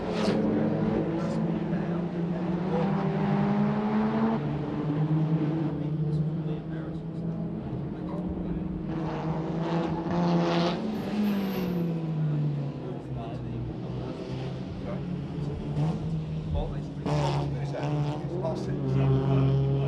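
Mazda RX-7 race cars racing at Surfers Paradise in 1995, rotary engines droning and rising in pitch as cars pass, with a commentator talking over the engine noise throughout.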